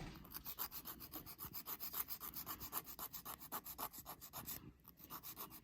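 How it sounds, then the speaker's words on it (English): A file rubs back and forth across a long builder gel nail to shorten it, a close, soft, rhythmic scratching of even strokes that carries on throughout. "it's a little long, so we're going to keep trimming it down."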